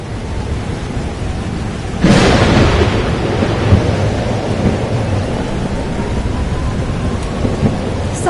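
Thunderstorm with heavy rain in the video game Life is Strange: Double Exposure, a loud thunder crack bursting in after steady rain hiss, then a long rolling rumble under the continuing downpour.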